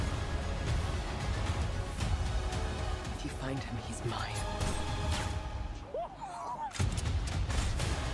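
Loud blasts and rattling gunfire from the Furiosa trailer crash through a busy, dramatic mix with voices, continuous and close throughout.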